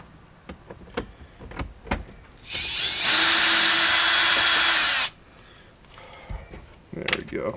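A power drill whirs loudly for about two seconds, steady and close, while removing a bolt inside a Jeep Wrangler during a radio install. Clicks and knocks of handling come before and after it, and people talk around it.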